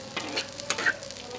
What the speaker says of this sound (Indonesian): Kemudian kita aduk-aduk terus bumbunya supaya tercampur rata ya teman-teman.